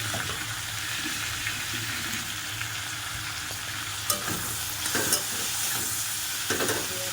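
Chicken fries with vegetables and spices in a pan, a steady close sizzle with a few sharp stirring scrapes and knocks near the end.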